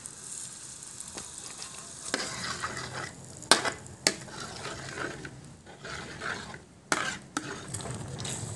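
Butter and garlic sizzle steadily in a pan for shrimp, with scattered clinks and scrapes of a utensil stirring against the pan.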